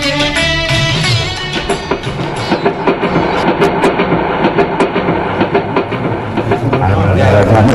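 A passing train serves as a sound effect in a radio drama, its rhythmic clickety-clack of wheels on rail joints loud and close throughout, with a brief voice near the start.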